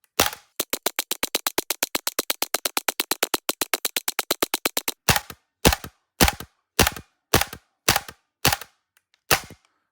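Krytac Kriss Vector gas blowback airsoft rifle firing semi-auto: a rapid string of sharp cracking shots for about five seconds, then slower spaced single shots as the gas runs out, loud and close with no talk.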